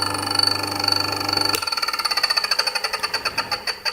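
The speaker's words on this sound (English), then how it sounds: "we'll find very, very easily this point at which the two stones first touch" Mockmill electric grain mill running during calibration: a steady motor hum, then the millstones meet and a rapid, rhythmic grinding chatter begins, loud and close with no talk.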